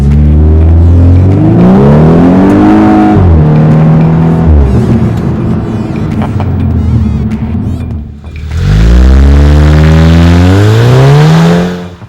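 Volkswagen Scirocco R with 255 horsepower revving hard as it accelerates, engine pitch climbing through gears with a brief dip around eight seconds before rising loudly again, close and steady throughout.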